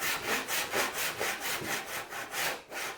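A hand saw cuts a sliding dovetail kerf in wood with steady back-and-forth strokes, about two per second. The rasping is close and fairly loud, with no voices.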